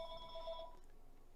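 A telephone rings once with a steady electronic trill, faint and in the background, cutting off after under a second.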